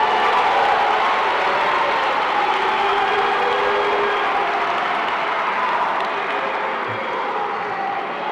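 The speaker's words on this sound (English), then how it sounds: "And let us give them a big round of applause." A large audience at a speech by South Africa's President Cyril Ramaphosa breaks into a big round of applause for the class of 2024, a loud, dense, continuous roar of clapping that fades slightly toward the end.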